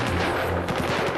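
A burst of rapid gunfire, several sharp reports in quick succession, loud and close over a noisy background.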